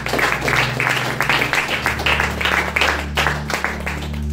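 Congregation applauding during a church service, a steady wash of many hands clapping at a fairly close distance, with an organ or keyboard drone sustaining underneath throughout.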